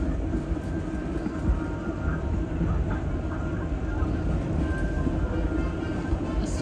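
The Disneyland Railroad train runs through Adventureland, giving a continuous loud low rumble of rolling wheels and car noise with faint clacks, heard from on board and steady for the whole stretch, with no speech.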